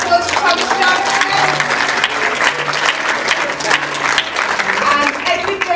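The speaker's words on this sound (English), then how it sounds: "can we all have a round of applause for Thomas Johnson?" Cinema audience applause at The Light Cinema in New Brighton, a steady dense wash of many hands clapping that carries on for several seconds with no break.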